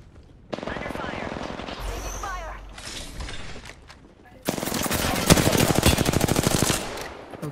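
A light-ammo rifle firing in a video game, sustained rapid automatic fire that stops, then resumes in a louder, longer burst over mechanical clatter.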